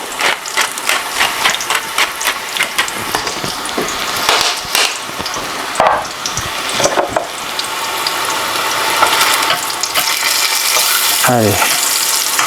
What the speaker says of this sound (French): On va les faire dorer un tout petit peu